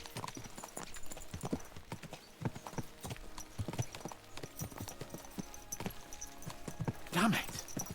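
Horses' hooves clip-clop steadily in Kingdom Come: Deliverance II, a quick run of hoofbeats close by, closing with a brief neigh.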